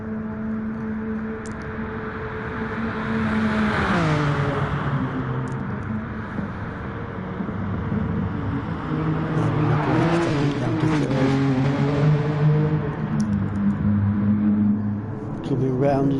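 A race car in a PS4 racing game screams along in seventh gear at about 170 mph, its engine note rising and falling as it shifts and sweeps past, under a commentator's voice.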